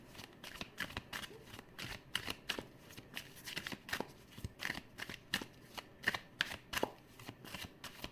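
Tarot cards are shuffled by hand in a quiet room, a steady run of crisp riffling and slapping bursts repeating rhythmically, close and soft.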